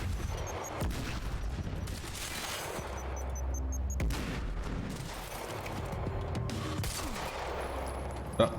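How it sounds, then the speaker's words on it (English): Firefight in Quantum Break with a grenade detonating among bursts of gunfire: rapid shots crackle throughout, with heavy booming thuds in the middle and a sharp bang near the end. "Oh, shit, grenade!"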